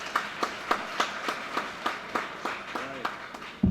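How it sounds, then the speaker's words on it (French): A handful of people at a women's affairs ministry ceremony clap in slow, rhythmic unison, about two claps per second, fairly close and steady, ending in a sudden thump. "Prière de vous applaudir, je vous prie."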